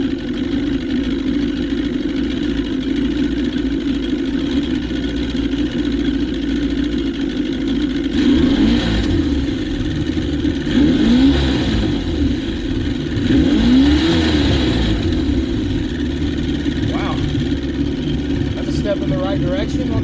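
A 50-year-old boat's outboard engine running after reed valve and coil pack repairs, a steady close mid-pitched drone with a few revs swelling and fading, while people talk over it.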